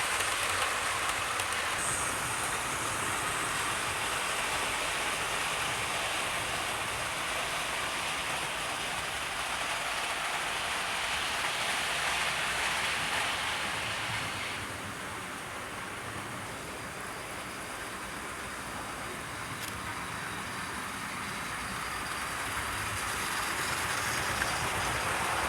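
A steam locomotive hauling Pullman coaches runs along the line, giving a steady, continuous rumble and broad hiss that holds for the whole stretch, dipping slightly midway, with no talk over it.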